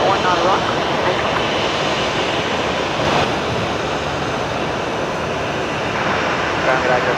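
An Airbus A320 Classic lines up on runway 19 right at Brisbane Airport, a broad, steady jet engine roar heard from a distance, continuous and loud, with people talking faintly over it.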